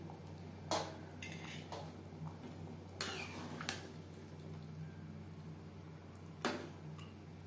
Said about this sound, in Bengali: প্রেসার কুকারটা ধুয়ে সামান্য পরিমাণে জল